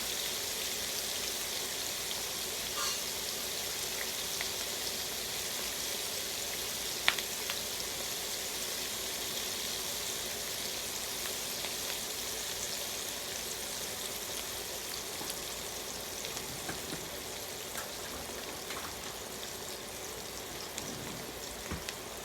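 Spicy onion rings fry in a pot of hot oil, giving a steady, even crackling hiss with small pops scattered throughout, close and continuous without any talk.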